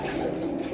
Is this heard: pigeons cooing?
yes